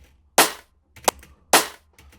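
A layered drum and bass snare hits twice, each a sharp, bright crack with a noisy tail and low rumble, separated by quieter ghost hits in a close, dry loop.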